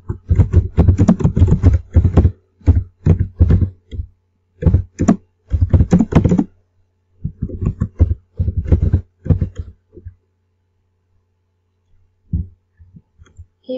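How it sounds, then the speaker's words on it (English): Typing on a computer keyboard, close and fairly loud, in quick irregular clusters of keystrokes broken by short pauses and a longer gap near the end. "you'll see a text box in which you can start typing your title"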